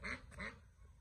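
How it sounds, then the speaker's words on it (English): Ducks quack faintly outdoors, a few short nasal calls overlapping in quick succession against a low background rumble. "Quack, quack, quack, quack, quack, quack, quack."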